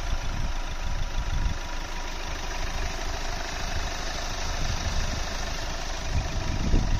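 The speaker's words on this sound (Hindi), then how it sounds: "यहाँ पे डीजल इंजन की आपको नॉइज़ सुनाते हैं कितना आवाज़ करता है" A Hyundai Verna SX 1.6 diesel engine idles steadily up close, a low, rough rumble with a constant mechanical clatter and no voices.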